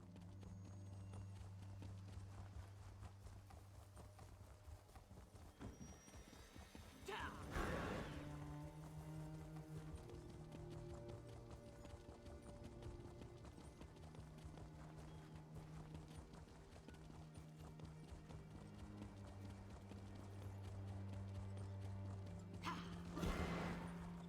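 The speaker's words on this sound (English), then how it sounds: "That a wild horse?" Horse hooves clip-clopping in The Elder Scrolls Online, a steady rhythmic trot of fairly close hoofbeats over soft game music, with a couple of brief louder whooshes or snorts.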